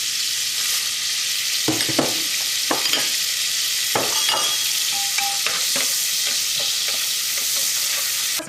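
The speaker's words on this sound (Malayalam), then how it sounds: "ഇതിലേക്ക് നമുക്ക് സ്പൈസസ് ചേർക്കാം. എല്ലാം കൂടി ഇട്ടിട്ടൊന്ന് വറക്കാം." Whole spices frying in melted butter in a pan for chicken biryani, a steady bright sizzle throughout with occasional scrapes and stirring clicks, close and fairly loud, no voices.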